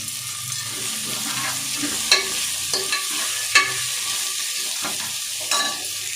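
A spoon stirs mixed vegetables with carrot and coriander for veg kurma in a pan, giving scraping clatters over a steady sizzle, close and continuous with a few sharper knocks.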